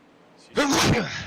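A single sharp sneeze bursts out after a brief quiet moment, close by and fairly loud, with no talking around it, during a sprint car race broadcast.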